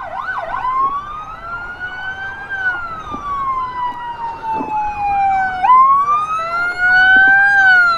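An escort vehicle's wailing siren rises and falls continuously, loud and close, while escorting an ambulance through a heavy traffic jam, with engine rumble underneath.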